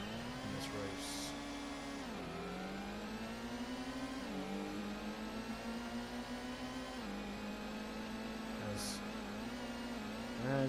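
Engine of a car racing around the bumpy Trial Mountain circuit in the PAL Gran Turismo video game, a steady loud drone that rises and falls with shifts and throttle, running continuously throughout with no talk.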